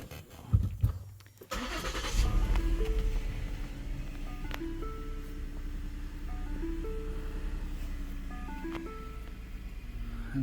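A 2014 Lincoln MKX engine cranks and fires after a fuel injector replacement, catching quickly and settling into a steady idle that runs on through the clip, with a few faint chimes from inside the car.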